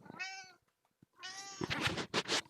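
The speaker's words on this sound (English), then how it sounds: "You can hear my cat." Cleo, a pet cat, gives two close, fairly quiet meows separated by a brief pause, followed by a rougher burst of nearby noise.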